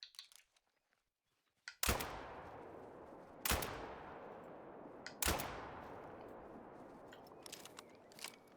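Three sharp rifle cracks ring out while hunting in The Hunter: Call of the Wild in a Scottish setting, each about two seconds apart and trailing into a long rolling echo against faint background ambience.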